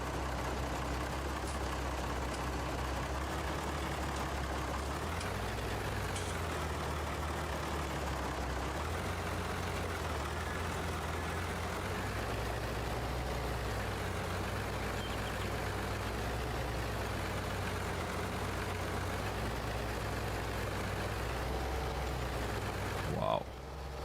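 A tractor engine idling in Farming Simulator 22, a steady low rumbling drone that holds evenly throughout with a slight throb, ending in a brief small knock.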